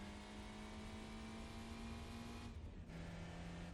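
A little Citroen racing in Gran Turismo 4 holds a steady, buzzing engine tone that shifts pitch near the end as it changes gear, loud and continuous with no talk.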